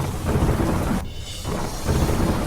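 Heavy monsoon rain pours down in Patan district, Gujarat, a dense, steady roar of downpour that briefly thins before surging back, with no voices.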